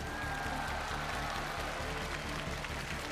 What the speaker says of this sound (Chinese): 大家来点掌声鼓励一下